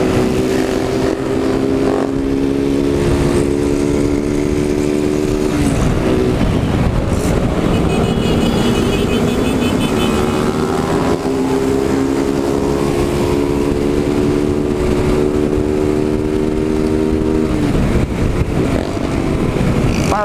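Several motorcycle engines rev loudly and continuously nearby, pitches rising and falling as throttles open, with no talking.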